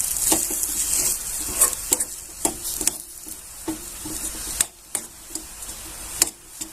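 Chutney with green coriander stirred in a pan, a steady soft sizzle broken by irregular scraping knocks of the spoon against the pan, close and alone.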